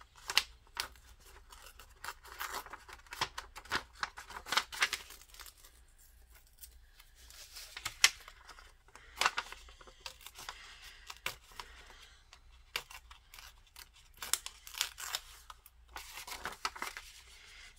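Paper torn by hand for a journal collage, a series of short, dry rips and rustles, close and fairly quiet, coming in irregular bursts with brief pauses.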